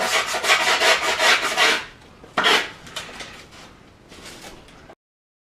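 Edges of skateboard grip tape scraped with a small mini crowbar, a series of close, rapid rasping strokes in bursts with short pauses between, alone with no talk.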